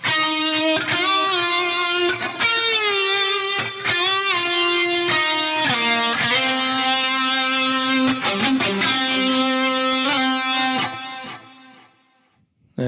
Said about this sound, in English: There's a flanger going there, of course, you can hear.